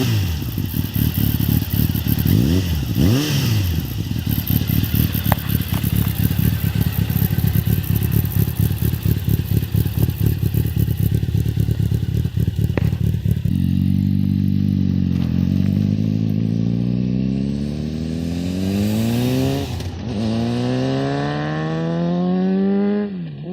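Honda CBR 1000 F motorcycle with a MIG aftermarket exhaust starting and running, a loud close idle rumble with clatter, then repeated revving sweeps rising and falling in pitch, no talking.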